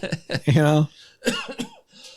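A couple of short, harsh coughs close up, mixed in with a voice speaking.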